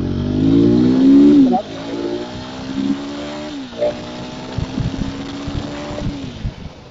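A 2025 KTM Adventure 390X motorcycle engine revs briefly, then settles into a steady idle near 1,000 rpm in neutral, close and loud, with a few small throttle blips.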